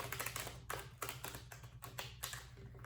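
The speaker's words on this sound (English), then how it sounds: "Let me give it a quick shuffle." Tarot cards are given a quick shuffle, a soft, quiet run of rapid riffling taps and flutters over a low background hum.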